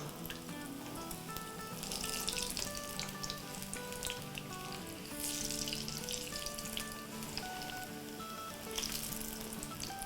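Bottle gourd (lauki) kebabs fry in a pan with a continuous soft sizzle and crackle, faint and steady throughout with small swells.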